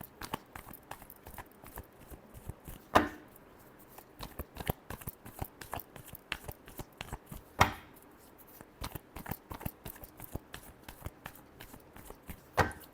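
Tarot cards are shuffled by hand in a rapid, steady stream of soft riffling clicks and flicks, with a few louder slaps, close up and with no voices.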